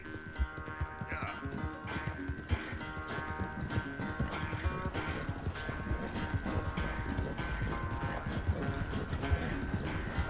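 Horse hooves clip-clop steadily in Red Dead Redemption 2, the even trotting rhythm running the whole time under a constant musical score.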